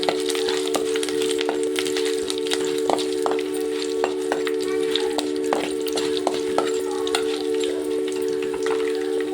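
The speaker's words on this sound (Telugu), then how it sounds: "కొద్దిగా ఆవాలు, 2 ఎండుమిర్చి, కొద్దిగా కరివేపాకు కొద్దిగా ఫ్రై చేసుకోవాలి." Mustard seeds, two dried red chillies and curry leaves sizzle in hot oil, a steady crackle with sharp popping spits scattered throughout, close and fairly loud, a constant tone humming beneath.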